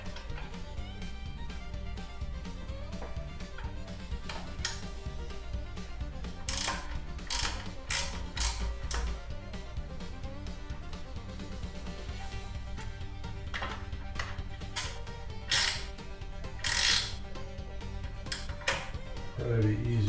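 Hand ratchet tightening a seat security screw on a Harley-Davidson Street Glide motorcycle: a steady run of clicking pawl and metallic ratcheting, with occasional brighter clacks, continuous and close throughout.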